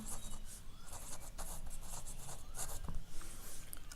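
Marker or chalk writing on a board during a grammar lesson, giving a series of short squeaky and scratchy strokes in irregular bursts, fairly close, with no talking.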